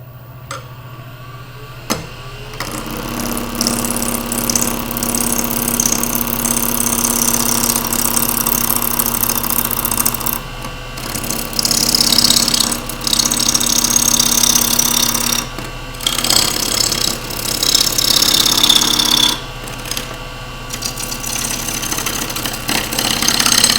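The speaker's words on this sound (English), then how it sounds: "you can hear I'm cutting across the notch" Wood lathe gouge cutting across a notch in a Norfolk Island pine turning, a steady droning, rasping cut with a constant motor hum, broken by brief pauses as the tool lifts, close and loud with no talk.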